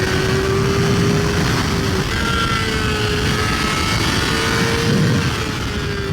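A 2023 Kawasaki ZX4RR sport motorcycle engine runs loud and steady, revving with rising and falling pitch throughout, close up with wind and road roar and no talking.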